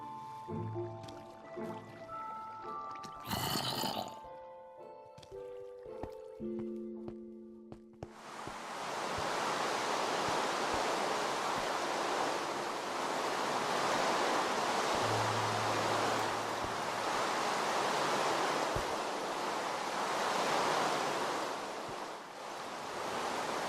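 Rushing water from a waterfall in the Minecraft video game, a broad steady roar that starts abruptly and holds loud and continuous, after a stretch of scattered tones and clicks.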